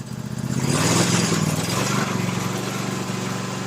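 A small engine runs steadily and loudly, its pitch climbing as the RPM is increased, with no voices over it.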